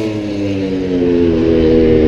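Loud MotoGP racing motorcycle engines roar past at speed at Le Mans, a continuous high-revving drone filling the whole clip with no talking.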